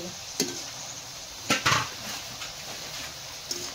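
Kerela pitha, an Assamese fried snack, frying in oil, with a steady soft hiss of sizzling broken by a few sharp clatters and scrapes of a utensil against the pan, close by.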